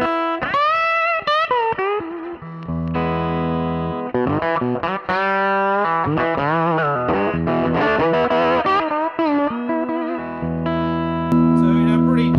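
Distorted electric guitar, a Gibson SG on its bridge pickup played through a 1966 Fender Vibrolux amp at volume 3, with a nasty, dirty tone, ringing chords and single notes played continuously and loud, with no talking.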